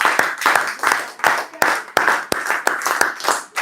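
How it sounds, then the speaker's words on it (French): Rhythmic hand clapping from a church congregation during a Sunday service, a run of quick, loud, fairly even claps in a steady beat with voices faintly mixed in. "Applaudissons pour Jésus."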